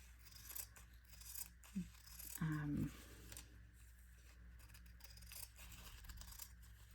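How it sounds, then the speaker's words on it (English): Scissors snip fabric on a junk journal, a few quiet close cuts and a crisp burst of snipping mid-clip over faint background noise. "I go back and trim again, because sometimes the fabric will push out a little."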